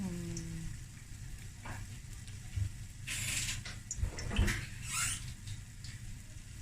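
Bollas, Cape Malay drop doughnuts, deep frying in oil in a Cape Town kitchen, a constant low sizzle and bubbling with a few clinks and brief spoon scrapes, voices murmuring faintly underneath.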